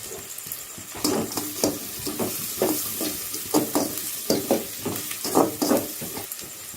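Curry leaves frying in oil in a pan for a kuravai fish gravy, a continuous sizzle broken by repeated rhythmic stirring scrapes, close by, with no speech.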